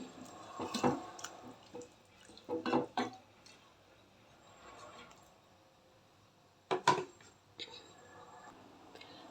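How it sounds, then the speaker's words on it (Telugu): Water poured from a vessel into a cooking pot of ragi vegetable soup in a home kitchen, heard as a few short splashing bursts separated by quieter gaps, moderately close. "ఇప్పుడు ఒక హాఫ్ లీటర్ వాటర్ వేసాను ఇంకా ఒక హాఫ్ లీటర్ వేస్తాను"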